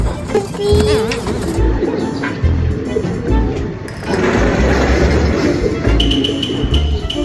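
Racing pigeons coo in a steady, fairly close murmur with overlapping soft calls and some fluttery chirps, continuing throughout without talk.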